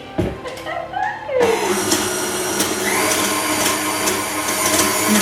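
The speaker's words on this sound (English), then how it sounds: "And the cup of milk. Just going to whisk that together." Cup of milk whisked into cinnamon roll dough in a home kitchen, a steady continuous mechanical whir running loud and close from about 1.5 seconds on after a brief rattling start.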